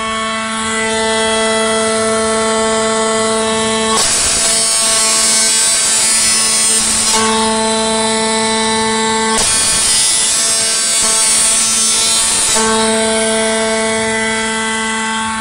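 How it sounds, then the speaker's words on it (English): A computer-controlled engraving machine cuts into a plate held flat on its bed, giving a steady loud mechanical whine with strong tonal hum and two longer bursts of harsh, noisy cutting grind between quieter running stretches. "Machine starts off and does the cut."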